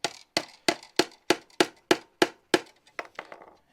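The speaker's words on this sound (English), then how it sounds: "Just hammer it in flush." A hammer drives a nail into wood in a steady run of about ten sharp, evenly spaced blows, each ringing briefly, with the last few hits softer.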